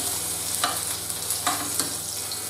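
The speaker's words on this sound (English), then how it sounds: "Just want to keep these meatballs moving. So get them well cooked." Meatballs frying in a pan while being stirred and turned, a steady crackling sizzle with a few soft scraping pushes of a utensil, close, with no talking.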